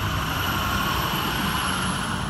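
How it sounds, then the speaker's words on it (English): A loud truck rumbles past close by on a road beside the Naperville Riverwalk, a dense, steady roar of engine and tire noise that fills the whole moment, with no voices. "It's a loud truck going by."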